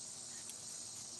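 Cicadas or similar insects outdoors produce a steady, high-pitched chirring drone that runs unbroken and fairly faint, with no voices.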